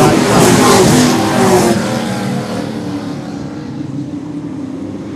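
Late model race cars roar around Seekonk Speedway, engines loud and close at first, then fading as the pack passes into a sustained distant drone, with a race commentator talking over the noise.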